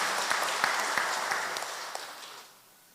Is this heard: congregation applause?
yes